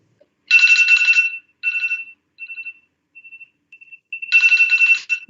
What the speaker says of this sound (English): No, it's the timer. I'm timing you. It's not the phone.